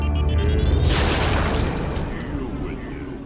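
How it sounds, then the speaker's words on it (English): A flashbang grenade goes off in the video game Tales from the Borderlands, a loud booming burst with a broad hiss that rumbles and slowly fades over a few seconds. "I thought it was a flashbang grenade."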